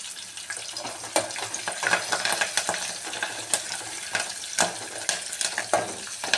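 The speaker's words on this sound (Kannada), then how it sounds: "ಅದು ಒಗ್ಗರಣೆ ಒಳಗನ ಚಟ್ಪಟ ಅನ್ಬೇಕು" Mustard seeds, green chillies and curry leaves crackle and pop in hot oil in a pan, a steady sizzle with scattered louder snaps and occasional stirring.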